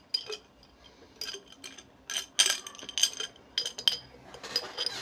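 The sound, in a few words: metal scissors clinking, taken out of a glass jar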